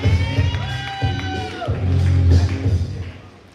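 An audience at a live spoken-word poetry show claps and cheers for a performer, with whoops and shouting rising over a noisy, mid-level crowd roar.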